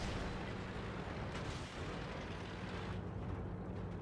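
A heavy tank cannon shot in World of Tanks booms amid dense, rumbling battle noise, a deep blast standing out partway through the continuous low roar.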